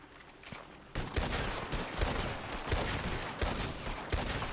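A volley of gunfire in a video game, sharp repeated shots crackling in bursts for several seconds after a quieter lead-in, loud and dense with no talk over it.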